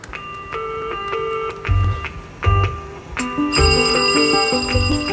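Repeated bursts of an old-fashioned telephone ringing: bright, clangy rings in a regular pattern, loud and close, with no talking.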